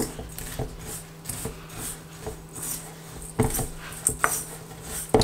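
Sunflower seeds, powdered coconut, cinnamon and salt stirred together in a bowl for granola: soft scraping with occasional clinks of a utensil against the dish over a steady low hum.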